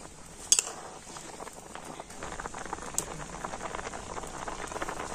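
Fried pitha simmering in milk in a pot produce a continuous soft bubbling patter, like fine rain, with a couple of faint clinks early on.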